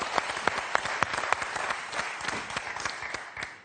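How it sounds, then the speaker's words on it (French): Studio audience applauding on a French television quiz show, a dense patter of many hands clapping steadily for several seconds with a few sharper individual claps near the front, gradually thinning toward the end, no voices heard. "Alors là j'applaudis."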